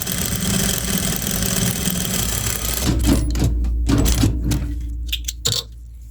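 A sewing machine stitches bra fabric with a steady, fast mechanical whir. It then slows into a few separate clicks and thumps before stopping.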